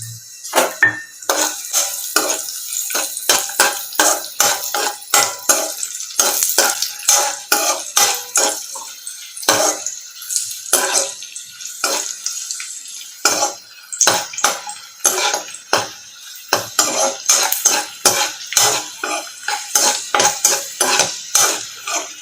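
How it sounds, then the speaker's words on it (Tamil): Cashews and raisins fried in hot oil for mango kesari, stirred with a spoon that clatters and scrapes rapidly and loudly against the pan, nearly continuous close metallic knocks with only brief pauses. "நம்ம எடுத்து வச்சுருக்க முந்திரி திராட்சையை போட்டு நல்லா வறுத்து எடுத்துக்கலாம்"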